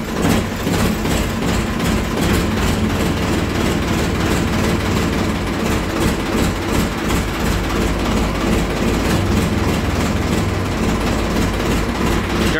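A Kubota tractor engine starts and settles into a loud, steady diesel chug, close by and running continuously with no talk over it.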